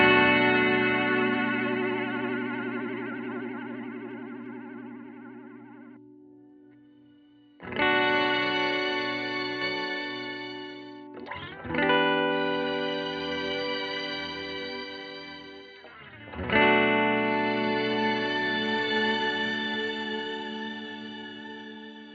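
An EarthQuaker Devices Astral Destiny reverb pedal in Astral mode, with expression control mapped to mix, swells guitar chords into shimmering, chorused washes; four sustained chords ring and decay into long, lush tails, with no talking.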